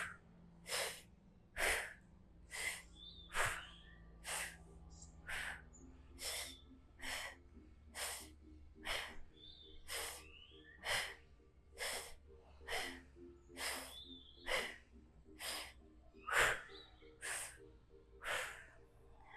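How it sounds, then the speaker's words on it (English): Forceful power breaths taken with a braced core during a yoga sculpt core workout: a long, steady series of sharp, breathy bursts at an even rhythm, close and fairly loud, with nothing else heard between them. "So now we're gonna do the power breathing."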